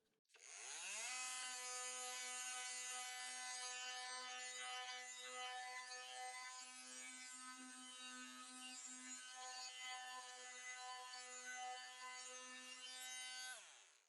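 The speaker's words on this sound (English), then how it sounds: "So that's sanded to 120." A brushless oscillating multi-tool fitted with 120-grit paper sands a wooden surface, giving a steady, close, high-pitched buzzing whine that runs unbroken for about thirteen seconds with no voices.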